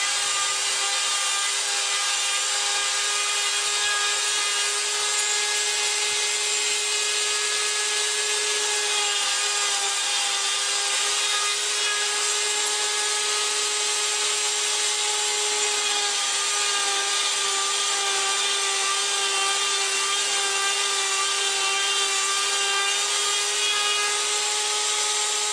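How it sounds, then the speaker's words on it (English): A shop-built wooden jointing machine cutting a triple mortise in wood with a multiple mortise template, giving a steady, loud, continuous whining tool drone with rubbing and rasping texture that runs unbroken throughout, with no talking. "with a corresponding multiple mortise template, I'm going to do a triple mortise to go along with that triple tenon I just cut."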